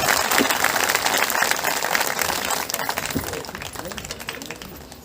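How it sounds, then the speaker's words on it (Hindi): A crowd at a village gathering welcomes young participants with loud, sustained clapping that fades gradually, while a voice speaks over it. "एक बार जोरदार तालियों से स्वागत हमारे युवा साथियों का।"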